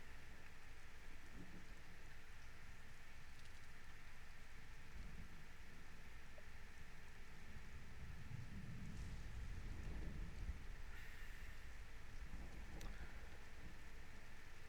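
Steady rain falling in a deep jungle in Conan Exiles, a faint continuous hiss with low rumbles of distant thunder rolling in and out.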